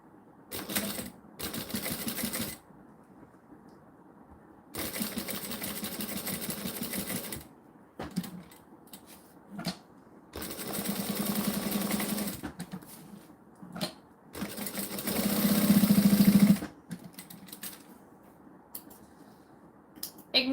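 Domestic sewing machine tacking fabric, several bursts of rapid mechanical stitching separated by quiet pauses, close and fairly loud.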